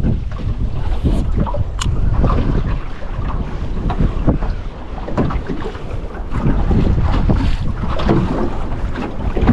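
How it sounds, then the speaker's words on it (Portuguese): Strong, steady wind buffets the microphone with a rough, roaring rumble, broken by gusts and flapping, at a river mouth with open water nearby. "O vento hoje"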